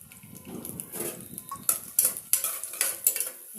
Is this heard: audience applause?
no